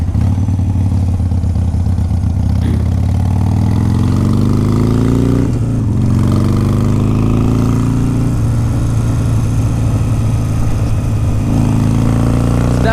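A 2009 Harley-Davidson 883 Sportster engine runs loud and steady close by, pitch rising and falling through several revs and gear changes while riding in cold weather.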